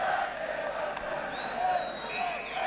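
A vast 28,000-strong football crowd murmurs and stirs at Stamford Bridge before a 1973 kickoff, a steady distant roar with faint rising shouts, alone.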